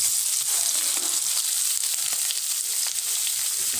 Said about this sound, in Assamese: এতিয়া মই এই তেলখিনিত এই কাটি থোৱা আমখিনি দি দিম